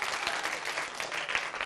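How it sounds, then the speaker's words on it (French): A crowd of children clapping together, a dense, steady burst of applause heard close and fairly loud throughout, with no talk. "les enfants, on fait un maximum d'applaudissements pour Soleil d'Afrique"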